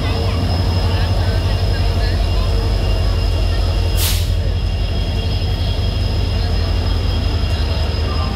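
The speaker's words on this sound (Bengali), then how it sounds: "আর এখন আমাদের ট্রেন ছাড়লো।" The Mumbai Mail from Kolkata pulls out with a heavy, continuous low rumble and rattle of carriages, broken midway by a short hiss of air brakes, while voices talk nearby.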